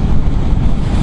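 Steady low rumbling wind buffeting a helmet-mounted microphone while riding a Ducati Diavel V4 motorcycle, loud and continuous with no voices.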